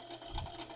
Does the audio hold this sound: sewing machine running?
yes